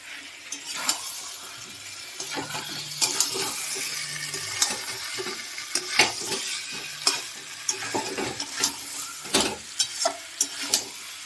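Potatoes frying in a spiced masala for vegetarian aloo dum crackle and sizzle continuously, with repeated sharp clinks and scrapes of a spoon against the pan.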